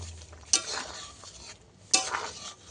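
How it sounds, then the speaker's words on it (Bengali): Small shrimp being stirred into masoor dal cooked with ridge gourd, two soft scraping strokes of a spoon against the pot over a faint simmer, close and fairly quiet. "চিংড়ি মাছটা ভালো করে ডালের মধ্যে মিশিয়ে দেব"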